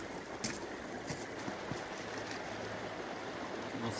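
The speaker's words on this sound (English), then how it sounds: "Little splish splash." Water splashing in the Ammonoosuc River, a steady close rushing flow with a few small splashes standing out over it, no one talking.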